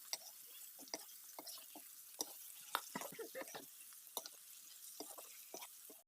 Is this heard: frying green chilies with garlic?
yes